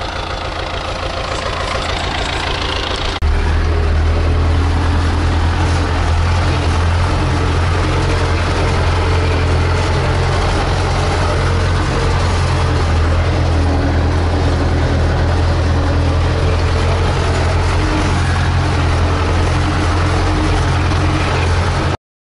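Tractor engine idling steadily after the hay mower is folded, a strong low rumble with a deep constant hum that runs without a break throughout, close and loud, with no talk.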